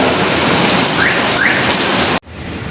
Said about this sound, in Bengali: তো এখানে চলে আসলো অনেক সুন্দর বৃষ্টি